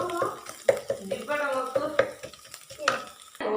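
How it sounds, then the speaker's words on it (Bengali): An egg fries in a pan under a soft sizzle, while a spatula scrapes and clinks against the pan in irregular strokes close by. "ডিমটা হলো ভেজে নিতেছি"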